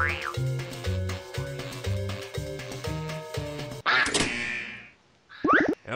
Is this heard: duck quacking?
yes